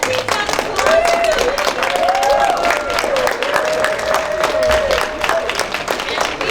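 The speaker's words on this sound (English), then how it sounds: "so let's please have applause" An audience at a school story slam applauds, dense clapping from a crowd that carries on steadily throughout, with a few voices and whoops mixed in.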